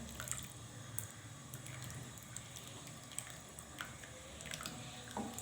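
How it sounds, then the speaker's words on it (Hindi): Tamarind water drips and trickles into a pan with soft splashes and faint clinks, fairly quiet and steady, with no one speaking. "अभी इमली का पानी डाल रही हूँ।"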